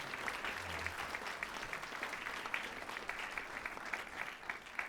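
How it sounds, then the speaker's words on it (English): Steady applause from a concert audience at an evening choral performance, a dense wash of clapping sustained at moderate distance throughout without a break. "let's give them all a round of applause"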